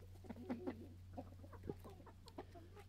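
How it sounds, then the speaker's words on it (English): Backyard chickens, including a Silkie hen, give soft scattered clucks and short calls at close range, with steady low hum underneath and no talking. "Come on, here, chick, chick, chick, chick on, Silky"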